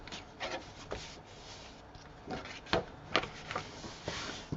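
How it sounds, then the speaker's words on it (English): Paper pieces burnished flat by hand, soft scattered rubbing and scraping strokes with a few sharper scuffs, close up and fairly quiet, without speech. "And burnish that down."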